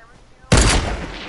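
Sudden loud burst of gunfire from the video game Fortnite, a single sharp blast followed by a sustained roar that fades slightly.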